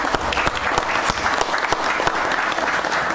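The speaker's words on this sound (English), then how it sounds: "if you could give yourself a round of applause, that'd be awesome" A church congregation applauds during a worship service, a full, steady patter of many hands with sharp individual claps standing out, close and continuous with no talking over it.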